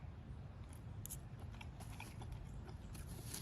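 Someone bites into a butter-dipped snow crab leg, giving faint, close crunching and cracking snaps scattered irregularly over a quiet background.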